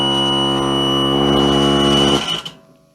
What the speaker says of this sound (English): It's got a little buzzer, but it also shakes